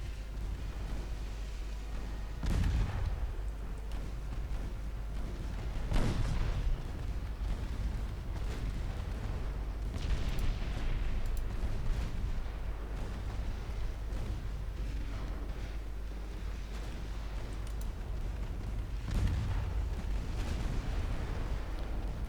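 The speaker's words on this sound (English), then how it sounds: "All that secondary fire." Secondary guns on warships in the naval video game Ultimate Admiral Dreadnoughts keep up a steady, dense roar of gunfire, with heavier booming blasts near the start, middle and end.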